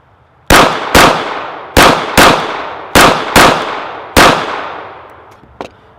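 Seven sharp, loud pistol shots from a Ruger 1911 firing MagTech ammunition at an outdoor range, spaced unevenly with short echoing decays, followed by a small metallic clink.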